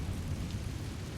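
Confringo blasting spell in Hogwarts Legacy: a brief, deep explosive rumble that stays low and muffled, with a steady roar and no sharp crack.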